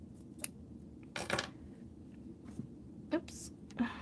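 Scissors snip black thread while a snowman garden flag is being sewn: a few short, close cutting clicks and rustles, spaced unevenly over a soft, steady background murmur.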